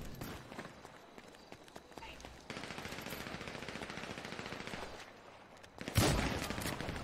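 Automatic gunfire during a GTA 5 team deathmatch, dense rattling bursts running continuously with a loud blast near the end, with a player talking over it.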